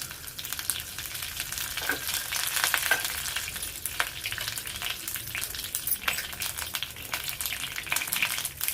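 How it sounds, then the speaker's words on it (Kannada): Mustard seeds and curry leaves sizzle in hot oil as tempering for a grated raw mango pickle: a close, continuous frying hiss scattered with sharp pops and crackles, with occasional stirring and no talking. "ಎಣ್ಣೆ ಬಿಸಿಯಾಗಿದೆ. ಇದಕ್ಕೆ ಇವಾಗ ಒಗ್ಗರಣೆಗೆ ಸ್ವಲ್ಪ ಸಾಸಿವೆ ಕಾಳು ಹಾಕೊಳ್ಳೋಣ."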